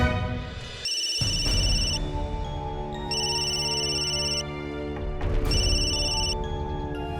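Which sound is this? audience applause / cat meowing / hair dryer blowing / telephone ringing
telephone ringing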